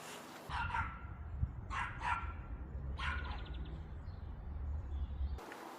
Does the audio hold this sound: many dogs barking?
yes